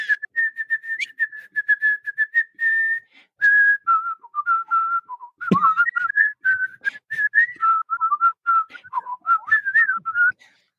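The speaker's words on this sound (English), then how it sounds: "Justin, can you do the S whistle?" A person whistles a wandering, warbling tune, up close and alone, in short phrases with brief pauses, a sharp click or thump near the middle.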